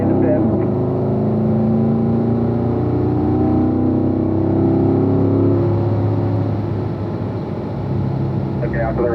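Race car accelerating hard down the straight, a loud continuous engine drone with rising harmonic tones as it gains speed, voices talking over the engine.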